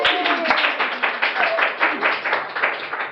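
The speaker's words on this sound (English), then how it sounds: "Round of applause for the winning team." Studio audience applauding a winning quiz team on a game show: steady, dense clapping that fills the whole stretch at even loudness, with no talk over it.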